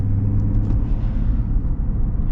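Deep, steady rumble of a 2025 luxury pickup truck engine running, loud and close, with a smooth low drone throughout.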